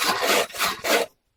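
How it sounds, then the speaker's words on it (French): A hand saw cuts through wood in three quick, rasping strokes, each one loud and close, with short gaps between them and silence at the end. "on prend notre scie et on va venir couper jusqu'à à peu près la moitié"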